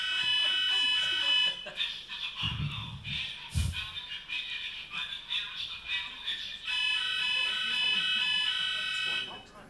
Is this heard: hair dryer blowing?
no